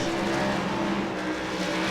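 A race car spinning and skidding in a crash at the exit of turn 2 at Iowa Speedway in iRacing, a steady loud engine roar blended with tire noise throughout, no speech.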